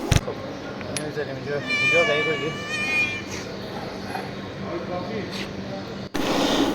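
A cat meows repeatedly in an industrial workshop during hydraulic vane pump repair, drawn-out tonal cries over a busy background with a voice talking, ending in a sudden knock and louder noise.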